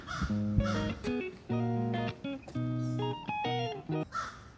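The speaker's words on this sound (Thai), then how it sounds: "เสียงอีกาหรือเปล่า" A crow caws loudly several times in quick, uneven bursts, close by, with short pauses between the harsh calls, in a forest in the USA.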